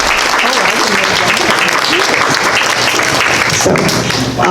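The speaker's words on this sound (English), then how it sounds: "So give them a round of applause." A crowd at a quilting event gives a loud, dense round of applause close by, with a voice and room noise mixed in toward the end.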